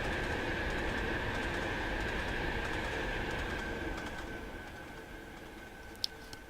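An AI-driven Alstom Pendolino train passing in the Trainz railway simulator, a steady loud rumble of wheels and motors with a sustained tone that gradually fades as it moves away.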